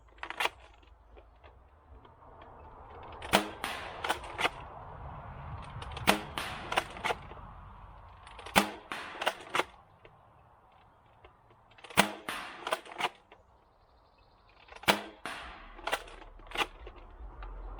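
A toy shop blaster fires at range targets in sharp snapping shots, mostly in quick clusters of three to five spaced a few seconds apart, loud and close against a quiet outdoor background.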